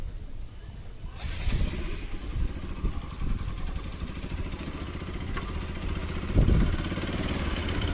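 A motorbike engine idles nearby with a low, steady, slightly uneven throb, picking up a touch around the middle and holding steady to the end, with no talk.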